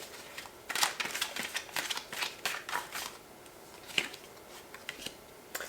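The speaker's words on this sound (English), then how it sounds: "I will be shuffling and picking cards as I go" Tarot cards being shuffled by hand: irregular bursts of crisp riffling and flicking, some rapid and clustered, others single taps, close and moderately loud with no talking.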